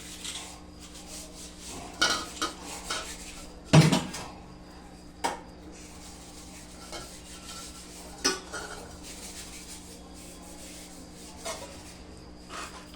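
A spoon stirs moong bean curry with coriander in a pan, with scattered scraping and clinking metal knocks, one louder clatter near the middle, fairly faint overall.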